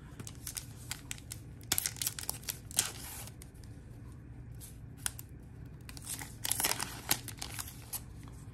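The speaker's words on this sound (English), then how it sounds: "today we're going to be ripping into another pack of Topps 2023 Big League Baseball" A pack of Topps 2023 Big League Baseball cards is ripped open by hand, with sharp crinkling and tearing bursts of foil wrapper spread across the clip, louder clusters near the middle and end, close and without talk.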